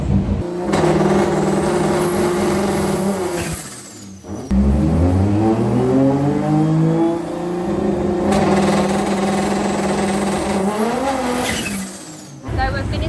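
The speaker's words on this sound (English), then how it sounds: "We're just setting up the rolling Antilag now, which is really exciting." A loud 1JZ turbo engine in a Nissan S13 revs hard and rises in pitch twice, with sharp crackling rolling anti-lag pops between pulls, close and aggressive.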